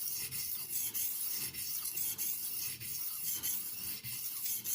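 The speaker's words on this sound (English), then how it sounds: "Sharpening" A knife blade is drawn repeatedly across a fine 1500-grit aluminium oxide whetstone, giving steady rhythmic rasping strokes at close range with no talk.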